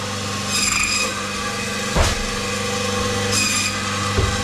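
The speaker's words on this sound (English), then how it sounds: "so let's split the loin. Straight down the middle, like that." A butcher saws and cuts straight down the middle of a lamb loin through the spine bone, giving a close, steady rasping scrape with a sharp knock partway through.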